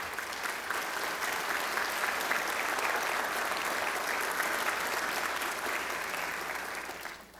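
An audience in a Louisiana legislature chamber gives a guest a sustained, even round of applause during a joint session. The clapping holds steady for several seconds, then thins out and fades at the end.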